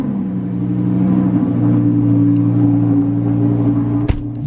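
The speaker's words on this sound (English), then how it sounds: "Cold start." Lamborghini Huracan engine cold starting in cold, wet weather, settling into a steady loud droning idle with a deep hum, and a brief sharp knock near the end.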